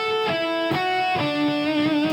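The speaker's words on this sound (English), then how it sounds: "So we're going to be playing through the pentatonic scale in a descending order." Electric guitar plays a descending pentatonic pattern that skips a note and comes back for it, a few sustained, slightly overdriven notes picked one after another, close and alone.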